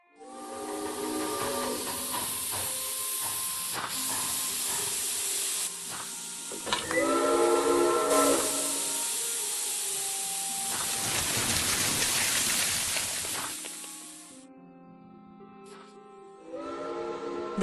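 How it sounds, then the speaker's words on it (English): Steam hisses loudly and continuously from a train in the Murder on the Orient Express video game, while drawn-out train whistles sound several times over the hiss before it fades. "Those whistles mean a train with a snowplow has arrived from Broad."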